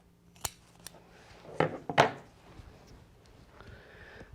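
Scissors snip through quilted fabric to trim a seam allowance, giving a few short, close crisp cuts spaced irregularly in a quiet room.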